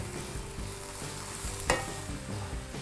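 Baby spinach fries in a pan while being stirred, a steady sizzle overlaid with rhythmic scraping strokes and one sharp metallic clank midway, close and without talking.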